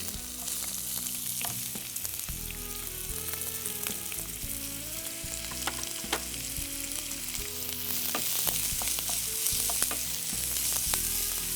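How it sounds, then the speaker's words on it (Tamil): Chopped onion frying in hot oil with cinnamon, cloves and cardamom on a Tamil home cooking show, a steady close sizzle with occasional stirring scrapes and clinks, no talking. "இது சூடான உடனே இதில் பொடியாக நறுக்கி வச்சுருக்க வெங்காயம்,"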